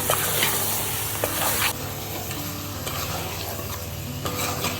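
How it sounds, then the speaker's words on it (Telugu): Chicken pieces sizzle loudly in a hot pan with ginger-garlic paste and turmeric for chicken curry, steady frying hiss with a spoon stirring and scraping throughout, no voices. "మనం కలుపుకున్న చికెన్ ముక్కలను వేసుకొని మంచిగా కలుపుకొని"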